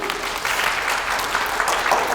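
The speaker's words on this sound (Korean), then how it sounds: "박수 한번 치시죠." An audience at a ketogenic diet lecture breaks into continuous applause, a dense, even patter of many hands clapping at moderate loudness throughout the short stretch, with no voices over it.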